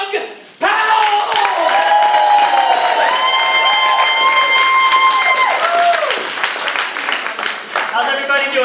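An audience at a live stand-up comedy show in DC breaks into loud, sustained applause and cheering with high whoops as comedian Doug Powell is welcomed to the stage.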